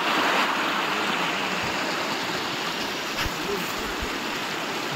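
A mountain river at Ala-Archa rushes past in a steady broadband roar of flowing water, close and continuous, with a few faint knocks but no clear speech.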